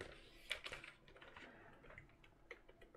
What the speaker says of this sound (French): donc c'est un clavier à membrane de chez DNB